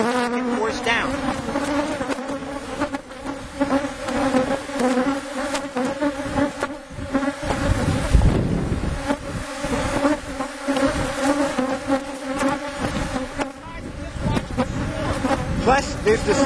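Honeybees buzz around an opened hive during an inspection, a dense, steady swarm hum filling the air close by, with occasional rustles and handling noises mixed in.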